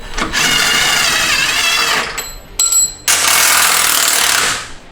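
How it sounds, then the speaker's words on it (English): Power tool, likely an impact wrench, spinning out the last bolt on a steering rack of a Bronco: two loud rattling bursts, the first about two seconds long, then short clanks and a second sustained burst. "we're gonna go ahead and pull this last bolt"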